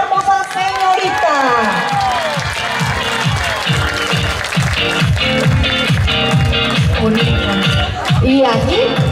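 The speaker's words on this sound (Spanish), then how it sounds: "¡El aplauso para esta hermosa señorita!" Crowd applause and cheering for a young contestant at a village beauty pageant, loud and sustained with whoops and shouts, music playing underneath throughout.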